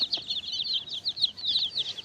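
A native hen stands close by with her chicks, and rapid high peeps and chirps repeat in quick bursts over soft low clucking.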